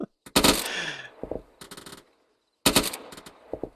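Bursts of machine gun fire in the Arma 3 military simulation game, three short rapid volleys separated by pauses, loud and close with a ringing tail after the first burst.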